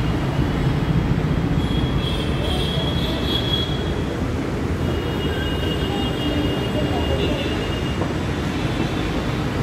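A Mumbai Metro train at Dahisar station gives a steady, loud broadband rumble of wheels on rails, with faint high squeals drifting in and out and a constant wash of station noise.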